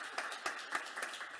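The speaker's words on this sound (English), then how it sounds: "Please give her an applause." A conference audience claps in a loose patter of individual hand claps, with some sharper claps standing out, fairly quiet and without voices.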